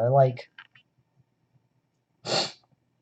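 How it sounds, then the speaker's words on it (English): A person lets out a single sharp sneeze, preceded by a brief voiced breath and a few soft clicks, close to the microphone in a quiet room. "When you gotta sneeze, you gotta sneeze."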